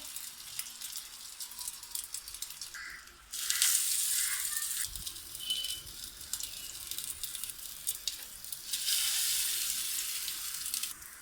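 Potato and chicken Turkish Adana kebabs fry in a pan, giving a soft sizzle that swells into a louder, hissing crackle partway through and again near the end, with a faint thump and clink in between.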